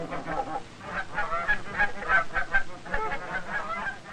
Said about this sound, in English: Even the ducks seem to know when their feeding time is at hand.